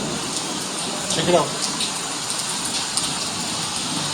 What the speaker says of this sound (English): Time to take a break and wait out the rain.